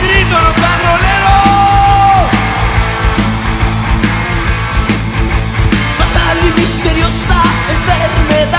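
A loud crowd at a rock concert in Arena Ciudad de México yells and roars over pounding live rock music, with one long sustained shout rising above the din for a couple of seconds.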